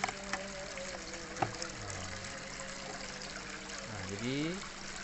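Water trickles steadily into a simple ebb-and-flow aquaponic grow bed fitted with a bell siphon, a faint continuous dribble heard under someone talking.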